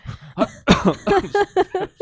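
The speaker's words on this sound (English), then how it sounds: "now we're both gonna be coughing" A burst of repeated, close coughing and throat clearing, in about eight rhythmic hacks over two seconds, loud and alone.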